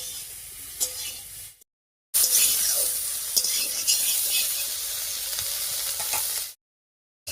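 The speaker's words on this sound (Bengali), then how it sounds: "ফুলকপিটা খুব একটা ভাজবো না একটু হালকা লাল লাল করে ভাজবো" Cauliflower florets frying lightly in mustard oil in a wok, a loud bright sizzle with scraping stirs, broken by two short silent gaps; no voices.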